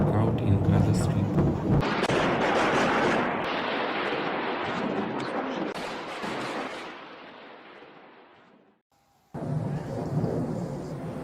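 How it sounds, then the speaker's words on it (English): Thunder rolls through a nighttime storm in the Gaza Strip: a heavy, booming rumble that slowly fades over several seconds before another loud crack bursts in. "Local residents experienced a night of lightning and thunderstorm that no one would forget."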